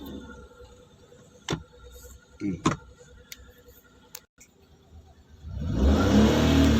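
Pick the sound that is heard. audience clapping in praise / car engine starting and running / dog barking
car engine starting and running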